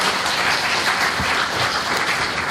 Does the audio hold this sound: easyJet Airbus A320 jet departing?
no